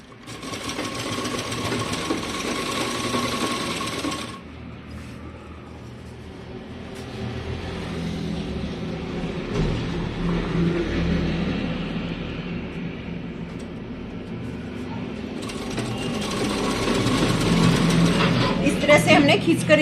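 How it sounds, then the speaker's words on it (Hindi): An electric sewing machine runs in bursts, stitching elastic onto saree pleats with a fast whirring hum that stops and restarts; a voice talks over the quieter stretch between runs. "खींचकर इसके ऊपर सिलाई लगा दी है।"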